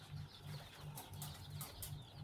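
Newly delivered farm birds, likely chickens, give a steady low clucking and murmuring with occasional wing flaps and sharper calls, fairly close and continuous throughout.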